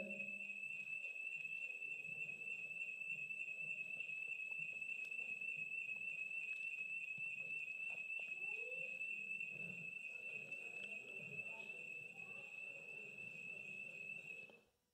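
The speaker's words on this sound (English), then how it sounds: "Somebody triggered the alarm." A building alarm goes off during a church service, a continuous high electronic tone held steadily throughout, with faint room noise and murmuring beneath it before it cuts out at the end.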